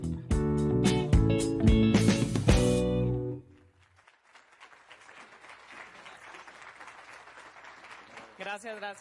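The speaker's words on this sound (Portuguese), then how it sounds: "esses aplausos parecem muito xoxos" Thin, lukewarm audience applause at a live talk, rising after loud music cuts off and continuing as a soft, even patter that swells slightly near the end.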